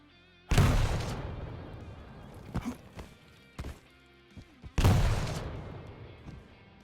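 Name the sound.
rocket explosions during rocket jumps in Quake Champions video game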